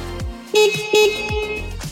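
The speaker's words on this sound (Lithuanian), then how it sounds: "Keturratis turi ir garso signalą." Two short, bright horn beeps from a CFMOTO CFORCE 110 children's ATV in quick succession, close and loud, with a low engine hum underneath.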